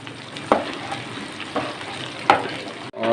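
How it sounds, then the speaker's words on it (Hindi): Ginger garlic paste sizzles in hot ghee, a steady close crackle of frying broken by a few sharp clicks of stirring over about three seconds. "चूँकि घी गर्म है तो अदरक लहसुन का पेस्ट जो है उसको बहुत कम टाइम आप दें।"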